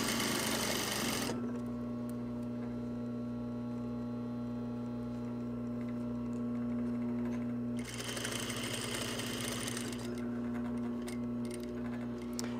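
An industrial-style sewing machine stitches a reversible jacket in steady bursts, its motor humming continuously beneath rapid needle ticking, pausing briefly in the middle before resuming at a brisk pace, close and alone without voices.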